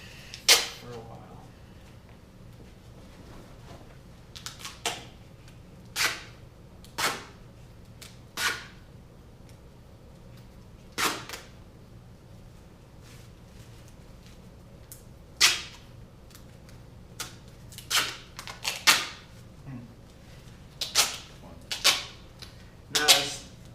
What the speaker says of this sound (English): And now we're taping for a while.